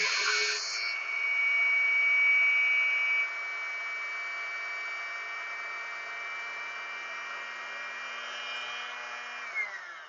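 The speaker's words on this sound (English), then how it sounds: "Winding a bobbin." A sewing machine winds a bobbin with a steady high-pitched whirring hum that holds at an even pitch for several seconds and then winds down near the end. The sound is close and continuous, with no voices.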